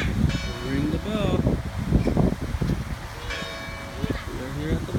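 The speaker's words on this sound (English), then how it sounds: "Ring the bell." A bell rings at a park on Main Street in Ventura, its clear chiming strikes recurring under steady outdoor wind and people talking nearby.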